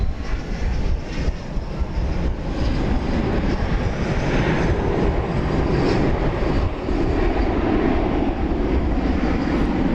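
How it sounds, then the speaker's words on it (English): A Qantas Spirit of Australia Boeing 787-9 Dreamliner at DFW Airport, a loud, steady jet engine roar with broad rushing noise that holds throughout. "But there is the Spirit of Australia. Once again, this is a Dreamliner"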